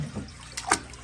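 Water pours and splashes while a fish tank is cleaned out, a soft running wash with two brief louder gushes near the end and no talking.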